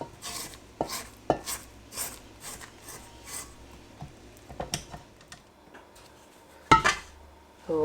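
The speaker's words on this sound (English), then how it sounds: "And the last third, I'll just scrape down the sides as well with this one." Spatula scraping the sides of a bowl of cake batter for a giant Jaffa cake, a series of short scraping and tapping strokes close by, with a sharper knock near the end and no talk.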